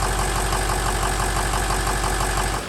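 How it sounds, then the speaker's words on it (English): A Ford 6.0-liter Powerstroke diesel idles steadily just after starting, still bleeding air from its fuel system following injector replacement; a loud, even, close-up clatter with a constant low rumble and no voices. "Allow it to idle on its own as it continues to bleed air from the fuel system into the tank."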